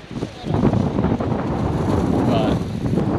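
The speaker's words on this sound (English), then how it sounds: "windy right now." Gusty wind buffeting close to the microphone, a continuous rough rumble that swells and stays loud throughout.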